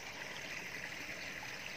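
Irrigation water trickles and flows steadily through a small vegetable garden near onion beds and rice paddies, a continuous close wash of running water with no talking.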